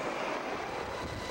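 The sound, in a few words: Apache attack helicopters flying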